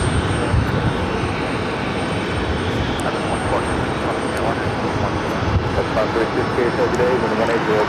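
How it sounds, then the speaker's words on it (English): A Delta Connection E-Jet airliner taxis toward the gate at JFK, giving a steady, loud broadband engine roar that holds without pause. "EJet heading into the gate"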